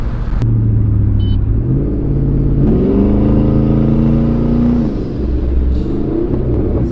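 A loud, deep twin-turbo Ford Mustang engine rumbles close by, then revs up and holds a higher throaty pitch before dropping back to idle.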